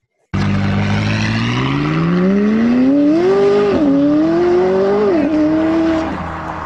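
A McLaren 570S engine revs up loudly and close, climbing steadily in pitch, briefly dipping at each gear change, then rising again before easing off.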